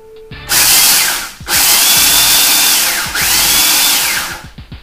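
Food processor chopping about two-thirds of a cup of sunflower seeds, a loud steady whirring motor run in three long bursts with brief pauses between them and a scatter of clicks as it winds down at the end.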